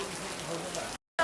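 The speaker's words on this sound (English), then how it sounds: "So we are experiencing a rain shower For the first time. on Phi Phi Island." A rain shower falls on Phi Phi Island in Thailand, a brief, dense hiss of rain that cuts out for a moment near the end before returning.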